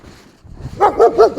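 A dog barks close by in a quick run of about four loud, rhythmic barks after a brief quiet start.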